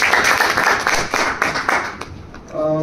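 Loud, dense clapping from an audience at a training session, applauding a speaker for about two seconds before thinning out, followed by a brief voice.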